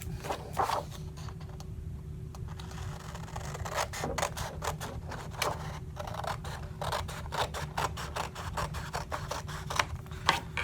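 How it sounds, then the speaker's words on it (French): Scissors snip steadily through paper for a craft souvenir album, a close, repeated run of crisp cuts over a low background hum. "Et je vais découper."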